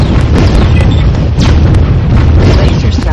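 Laser satellite strike in the real-time strategy game Warzone 2100, a loud, dense, sustained rumbling explosion with crackling bursts filling the whole moment without pause.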